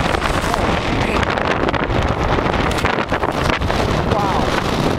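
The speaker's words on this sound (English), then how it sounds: "That wind is harsh." Harsh, gusting wind during a February snow storm, roaring and buffeting loudly and close against the microphone without a break.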